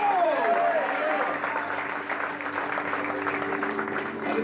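Congregation clapping at a church inauguration, a full steady round of applause filling the room while an amplified voice speaks over it at the start.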